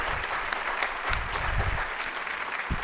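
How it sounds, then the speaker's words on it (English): A studio audience on a firearms talk show applauds to welcome a guest, a dense continuous wash of clapping hands for a few seconds with a faint voice briefly under it. "Let's welcome her to the show. Clapping."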